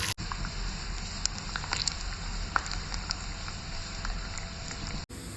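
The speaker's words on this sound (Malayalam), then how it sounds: "അപ്പൊ ഇതേ നമ്മുടെ കട് വറുത്തോട്ട് വന്നിട്ടുണ്ട്" Mustard seeds fry in coconut oil with shallots, dried red chillies and curry leaves as a tempering for a coconut-milk mango curry, giving a soft, steady sizzle scattered with small crackling pops, fairly quiet throughout.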